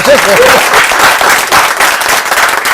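Studio audience applause at a talk show, loud and continuous across the whole stretch, with a short vocal sound near the start.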